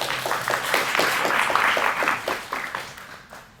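Audience applause fills a community arts and culture listening session, a dense, steady patter of many hands clapping up close, then thinning and tapering off near the end.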